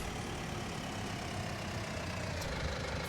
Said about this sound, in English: Love our little Kloss tractor.